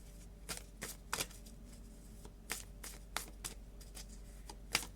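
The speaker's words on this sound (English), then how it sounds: "So if you shuffle sideways" A large-format Cosmic tarot deck, bigger than a standard tarot, is shuffled sideways in a series of crisp, papery riffling bursts. The bursts come in irregular spurts, close and fairly quiet, with no talking over them.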